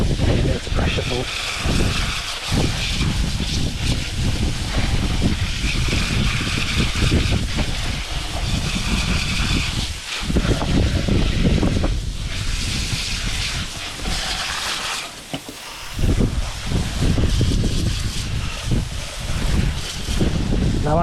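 Pressure washer spraying down an RC car, wheels and treads included, as a steady, loud broadband hiss that runs almost unbroken with brief dips as the spray moves.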